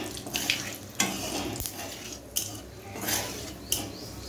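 Whole spices with bay leaf and dried chilli being stirred and fried in oil, a low continuous sizzle broken by periodic metallic scrapes and clinks of a spoon against the pan, close and moderate.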